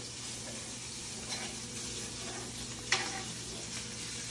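Sausage sizzles in a pan while being stirred: a constant close frying crackle with a couple of small utensil knocks, the sharper one near the end.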